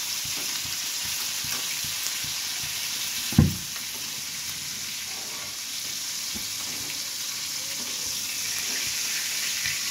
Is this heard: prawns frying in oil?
yes